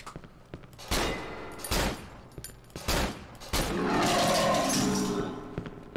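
Gunfire in the horror game Cry of Fear while shooting at enemies: several loud, sharp shots in quick succession, then a longer sustained burst of firing and echoing noise toward the end.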